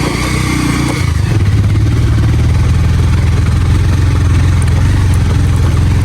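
A motorcycle engine runs steadily with a loud, continuous low rumble and mechanical clatter throughout, heavily loaded with three riders on a hilly road.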